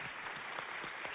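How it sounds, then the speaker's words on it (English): An audience breaks into steady, dense applause with a few cheers mixed in, heard alone at moderate level throughout the short burst. "I think that's worth a cheer."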